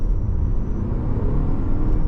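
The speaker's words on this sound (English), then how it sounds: "if I go to the auto, the engine you will hear kick in" A 2026 Toyota RAV4 XSE plug-in hybrid's petrol engine starts up and runs, a steady low rumble and whir close by with no talking over it.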